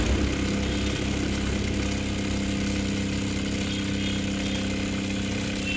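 A sewing machine stitching a cloth bag runs as a continuous, loud, even mechanical hum and buzz for the whole stretch, with no pause and no voices.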